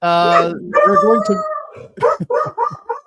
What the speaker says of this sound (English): dog sitting two dogs that are getting a little excited.